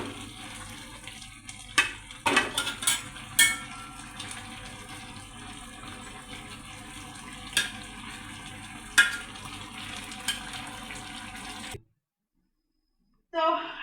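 A pot of drumstick (sajna) and hilsa fish curry is shaken, giving a steady wet slosh and simmer with a few sharp clanks of the pot, before the sound cuts off abruptly.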